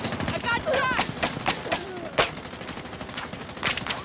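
Gunfire in the Call of Duty Mobile video game, rapid bursts of automatic shots and single cracks packed close together over a busy game soundtrack, with voices speaking over the shooting.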